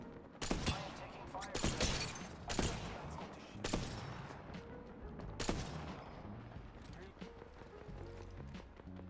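Shotgun blasts in Apex Legends gameplay, several sharp loud reports spaced irregularly across the stretch amid other game sounds, with a voice talking over it.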